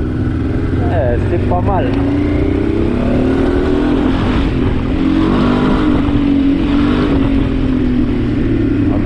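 A Honda Transalp 600 motorcycle engine idles and revs steadily after carburettor work, a continuous close mechanical drone with rising and falling pitch, while someone speaks briefly over it.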